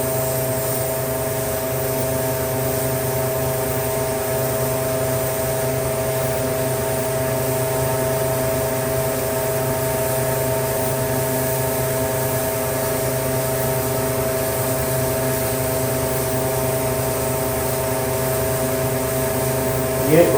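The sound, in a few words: workshop exhaust fan running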